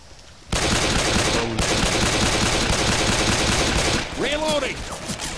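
Loud, dense game gunfire from Left 4 Dead 2 roars almost without a break for several seconds, sustained rapid shots under overlapping voices shouting in the background.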